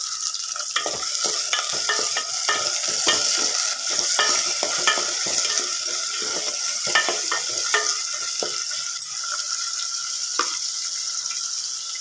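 Tomatoes fry in a pan for a curry, with a loud, steady sizzle and a spatula scraping and stirring in a quick, irregular rhythm throughout. Close and continuous, with no talking.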